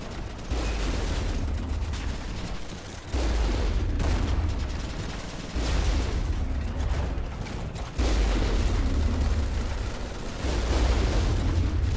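Cannons fire from a vehicle in the video game Running with Rifles, heavy booming blasts in four or five long, loud, rumbling waves, each cutting off sharply before the next.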